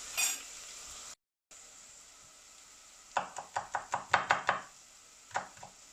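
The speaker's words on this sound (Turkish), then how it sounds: "soğanlarımız pembeleşene kadar pişirmeye devam ederken hemen sarımsakları doğruyoruz." A knife chops garlic on a board in quick bursts of sharp knocks, about a dozen close taps, while onions cook in a pot with a faint steady sizzle underneath.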